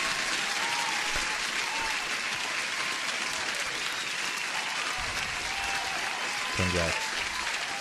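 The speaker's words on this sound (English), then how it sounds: "Kirktown, I think you really need a huge applause." Applause after a congratulatory shout-out during a live futures day-trading stream, a steady wash of clapping under a man's brief spoken remark, with a short low tone near the end.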